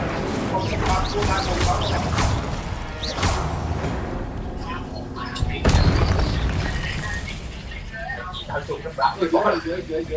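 Incendio fire spell in the video game Hogwarts Legacy, heard as booming blasts and crashes amid busy game effects, with a voice talking over the action.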